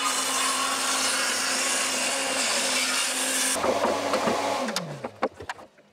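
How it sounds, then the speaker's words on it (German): A hand saw rasps steadily through wood for several seconds, then slows into a few separate strokes and knocks before stopping. "Und jetzt säge ich das Ganze durch."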